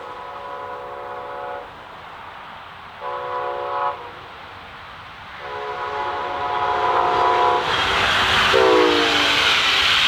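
A Brightline BrightGreen passenger train passes northbound at a road crossing, sounding repeated loud horn blasts in a long-short pattern as its rumble builds to a close, roaring pass-by.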